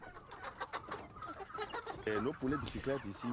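Crossbred chickens on an integrated farm at the Songhai centre in Benin cluck and squawk up close in quick, irregular bursts that grow busier and louder toward the end.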